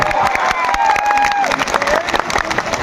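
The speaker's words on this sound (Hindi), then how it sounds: "मैं अपनी पूरी टीम की तरफ से आप सभी के लिए एक बार तालियां चाहता हूँ" Applause and cheering from a large crowd of students at a motivational coaching session in India, loud and close, dense clapping mixed with shouts and whistles filling the whole stretch.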